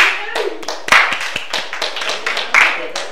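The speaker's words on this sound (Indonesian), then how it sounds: "aplaus buat kita semua" Classroom applause during a teaching practice session, a group of students clapping in a burst of uneven overlapping claps that swell and fade over a few seconds, with a voice briefly mixed in.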